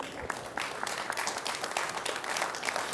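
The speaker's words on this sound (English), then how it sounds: "it always scares me when people clap before I've said a word" Conference attendees clap as a speaker is welcomed to the stage, a moderately loud round of applause with individual hand claps standing out in an irregular patter throughout.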